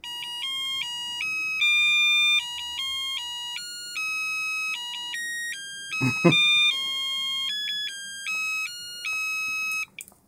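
An electronic Happy Birthday music kit, a small circuit powered from a power bank, beeps out the tune in thin square-wave tones, fairly loud and close. Someone briefly speaks partway through, and the melody cuts off abruptly at the end.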